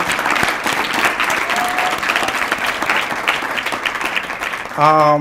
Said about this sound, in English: give a wonderful round of applause for all of our youth and our award winners for today